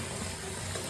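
Warm water runs from a tap into a bathtub, producing a steady, close, loud rushing and splashing with no pauses.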